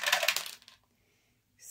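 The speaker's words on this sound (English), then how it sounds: "So first we roll the dice, then we salvage." A handful of dice roll onto a hard surface during a tabletop board game, giving a short, bright clattering rattle that fades in under a second, then quiet before a brief soft noise.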